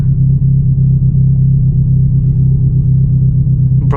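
A Genesis Coupe engine running rough with a misfire, heard from inside while driving: a loud, steady low rumble with an uneven pulsing drone for about four seconds, close and without talk.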